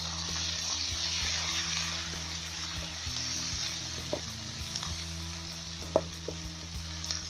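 Chopped tomato hitting hot garlic and ginger in a pan for daal gosht, giving a steady close sizzle with a few small stirring clinks and spatters, no voices.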